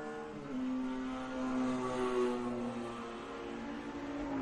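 Race cars on the track at an SCCA club race at Buttonwillow circuit send a steady, blended engine drone from mid-distance. The sustained tone swells and fades slightly over a few seconds, with no voices.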